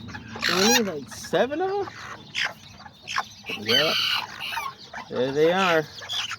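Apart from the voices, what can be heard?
mother hen and newly hatched baby chicks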